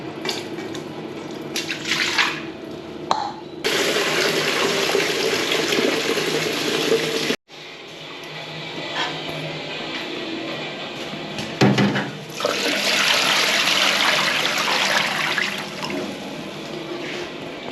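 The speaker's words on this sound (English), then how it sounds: "I'm going to get some water by taking the bottle off of one of the sinks and filling up the bucket that way" Water runs from a sink's supply into a bucket in a restroom, a loud continuous gushing rush that cuts off briefly midway, then resumes with a sloshing, rising fill tone.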